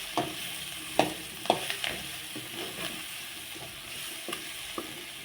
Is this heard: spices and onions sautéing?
yes